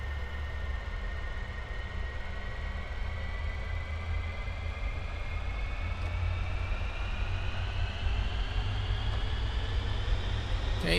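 Avro Vulcan jet engines in Microsoft Flight Simulator spool up to takeoff power during the takeoff roll, a steady roaring rumble with a rising whine that climbs gradually, fairly faint overall.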